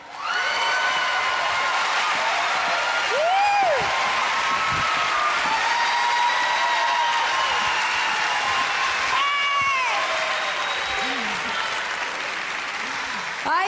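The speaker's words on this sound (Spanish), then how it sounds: "Quiero pedir un fuerte aplauso a una gran amiga" Applause from a concert audience at a tribute show, loud sustained clapping mixed with cheers and whoops across the whole stretch, with occasional shouts rising above the crowd.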